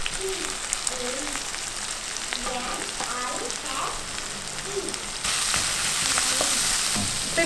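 Sliced onions and finely chopped garlic fry in a pan with a steady, soft sizzle that grows a little louder and brighter toward the end, with no talking over it.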